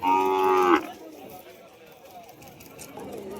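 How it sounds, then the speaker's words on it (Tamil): A Kangayam-breed bull calf at a cattle market gives one loud, close moo lasting under a second, followed by quieter market background noise. "ஒரே ஒரு மயிலை காளை வச்சிருக்காங்க."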